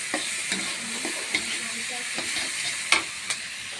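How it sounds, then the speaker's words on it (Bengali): Turmeric is stirred into food frying in a pan, with light scraping strokes repeating over a steady, soft sizzle. "হলুদটা একটু মিশিয়ে নিই বন্ধুরা।"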